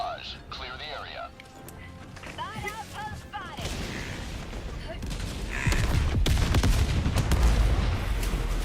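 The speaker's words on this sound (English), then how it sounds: "This orbital barrage is spot on." An orbital barrage strikes in the shooter Helldivers with heavy, rumbling explosions that grow denser and louder over the second half, over game effects and some voices.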